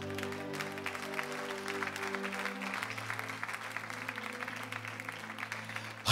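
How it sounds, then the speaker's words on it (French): A church congregation claps steadily in praise of the Lord, a soft continuous patter of applause under a sustained low musical drone, swelling briefly at the end. "Quelqu'un ici acclame le Seigneur."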